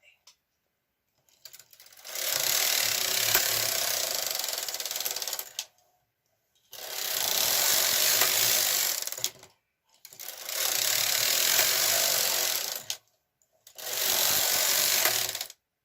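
A KH 230 knitting machine carriage is pushed across the bed in four separate passes, each a few seconds of dense clattering mechanical rattle, with short silent pauses between strokes, close and fairly quiet.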